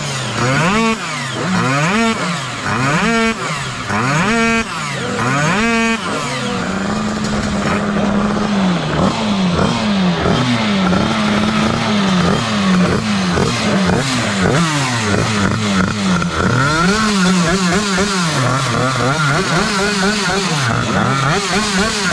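A tuned scooter engine screams through a drag-race run at a Scooterpower Drag Day, opening with several sharp rising revs in quick succession, then a long sustained high-pitched wail with gear-change dips, loud and close, with faint crowd noise behind.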